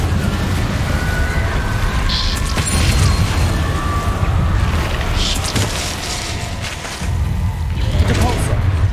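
An Incendio fire spell is cast in Hogwarts Legacy amid a loud, dense combat mix of booms, crashes and whooshing bursts, with voices talking through it.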